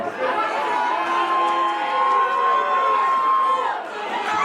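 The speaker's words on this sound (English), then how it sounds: "Listen to this crowd." Loud wrestling crowd at an ICW Heavyweight Championship match, a dense continuous roar of cheering and chatter filling the arena with a sustained tone running through it, with no clear pauses.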